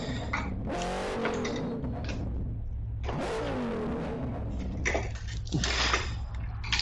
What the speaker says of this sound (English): Just trying to work out what that noise was, but it's the backfire.